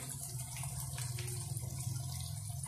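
Water is poured into a pot for soup, a steady trickling splash that runs continuously and sounds close and fairly quiet.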